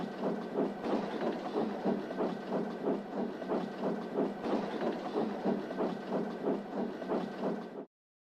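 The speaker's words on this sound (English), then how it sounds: "And Hobius huffed away." A steam engine in the Trainz train simulator, chuffing in a steady, even rhythm with a broad hiss under each beat, loud and close, then cutting off abruptly at the end.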